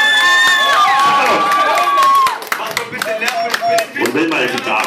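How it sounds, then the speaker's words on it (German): A crowd at a benefit concert breaks into clapping, cheers and shouts. Loud whoops ring out at first, then the applause thins into scattered claps and voices. "riesengroßen Applaus!"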